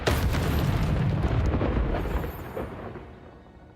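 A Confringo spell explosion in the video game Hogwarts Legacy: one loud, heavy boom that rumbles and then fades away over a few seconds.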